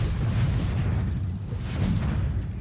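Explosion spell effect in MTG Arena, a dense low rumbling boom that sustains across the whole stretch at steady loudness, with no talk over it.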